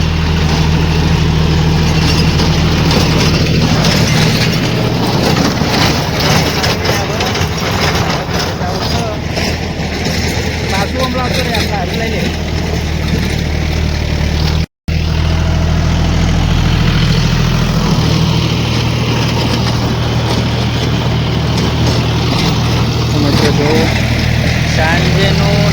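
A tractor engine idles and runs steadily in a rural setting with rainy-weather atmosphere, a continuous low rumble close by, with a momentary dropout midway and voices talking over it.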